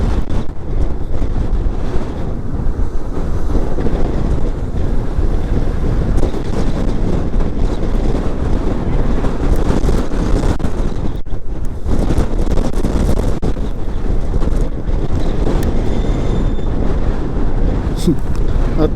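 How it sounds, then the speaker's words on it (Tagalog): Strong, gusty wind buffets the microphone on a boat at sea, with constant roaring rumble and waves, while people talk over it. "Hindi kaya, masyadong mahangin."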